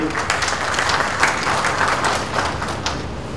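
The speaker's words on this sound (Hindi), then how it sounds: "जरा तालियों से स्वागत करें भाई" An audience at an award ceremony gives a welcoming round of applause: close, lively clapping with audible individual claps, rising and falling slightly, with faint talk mixed in.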